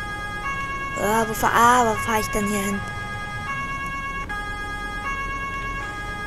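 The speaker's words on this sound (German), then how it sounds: "Sirene darf auch nicht fehlen." Farming Simulator 19 police car siren on an emergency run, its two-tone wail cycling steadily throughout while someone talks briefly over it.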